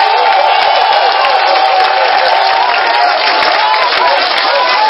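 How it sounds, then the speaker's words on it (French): A church congregation cheers and acclaims Jesus, a loud, sustained roar of crowd voices with whoops and clapping filling the space without pause. "Est-ce qu'on peut acclamer Jésus de l'amour?"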